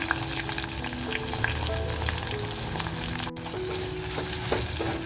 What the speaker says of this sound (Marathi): आपल्याला ना कांदा तर छान परतवत घ्यायचा आहे